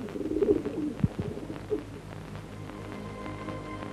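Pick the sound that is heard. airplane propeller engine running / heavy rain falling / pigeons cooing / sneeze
pigeons cooing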